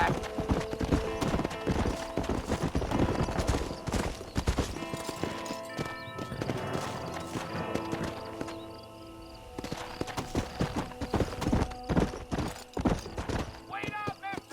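Rhythmic hoof clip-clop of horses galloping in Red Dead Redemption, steady and close throughout, with a voice talking over it, music underneath and an occasional whinny.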